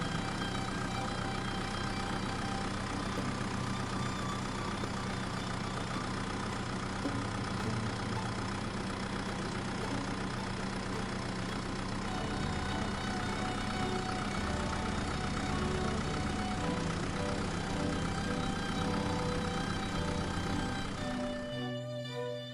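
Farm tractor engine running steadily with a constant mid-range drone and idling knock, continuous and fairly close for most of the stretch before cutting off abruptly near the end.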